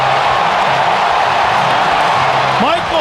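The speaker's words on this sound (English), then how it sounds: "Listen to this crowd." Ballpark crowd at a Cubs baseball game roars loudly and steadily after a game-winning home run, a dense, sustained wall of cheering with some whooping near the end.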